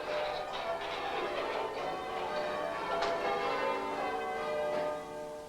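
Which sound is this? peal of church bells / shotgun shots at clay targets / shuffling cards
peal of church bells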